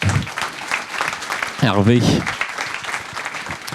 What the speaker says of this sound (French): vous pouvez les applaudir, les accompagner dans leur descente avec vos applaudissements encore